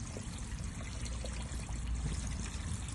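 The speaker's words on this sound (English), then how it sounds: "Now I have the kitchen tap running" A kitchen tap runs steadily, a soft, constant hiss of pouring water at low volume with no break.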